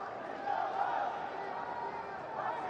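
Cricket crowd roaring steadily at a Pakistan vs Australia match as a batsman nears his century, a dense sustained swell of distant voices with no clear individual calls.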